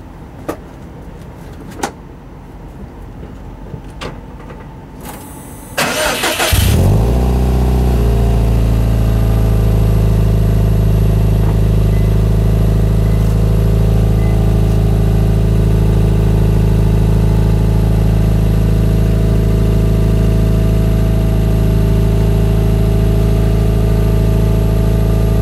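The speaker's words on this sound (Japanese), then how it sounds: "ちょっとエンジンかけてみましょう。" A car engine fitted with a new Fujitsubo muffler cranks, catches with a quick rev, then settles into a loud, steady low idle rumble that drones on evenly for most of the stretch.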